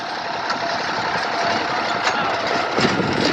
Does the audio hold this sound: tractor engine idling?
yes